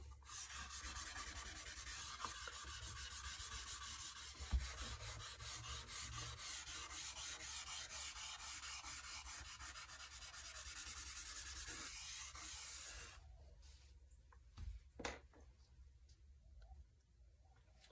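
Soft, steady rubbing over a vine charcoal drawing on paper, a continuous dry sanding hiss that runs for about thirteen seconds and then stops, leaving a few faint taps and rustles.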